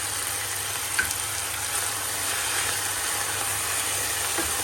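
Spices and chili powder frying in a pan make a steady, close hiss that holds evenly throughout, with a low hum underneath and no talking.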